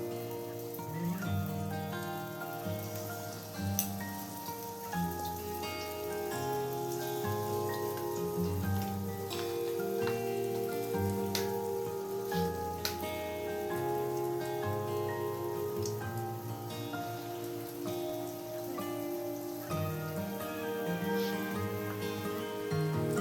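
Lentil dahi vada fritters (kalai dal) deep-frying in hot oil, giving a steady, dense crackle that runs throughout beneath loud background music.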